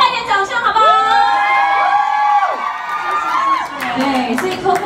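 A crowd greets a pop singer at a Taipei 101 appearance with loud, continuous cheering, whoops and shouts, plus high rising and falling whistle-like cries, lasting the whole stretch.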